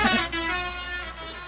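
A loud vehicle horn blares in a sustained, harmonically rich honk with a brief dip partway through, close and dominant, with no talking over it.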